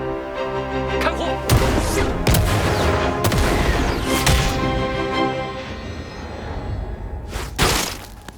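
A newly made rifle fired in an animated fantasy series: several sharp, loud gunshots ring out in quick succession, with crackling echoes and a final blast near the end, no talk over them.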